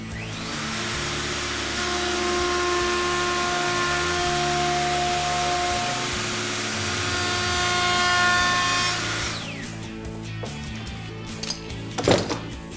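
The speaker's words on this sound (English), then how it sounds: "what we're going to do is quickly clamp us jig down onto the surface, and then we can get a drainer put in" A router with a clamped jig cuts a shallow drainer groove into a solid surface worktop, a loud, steady whining roar with slight pitch changes for about nine seconds, then winding down into a few knocks and handling clatter.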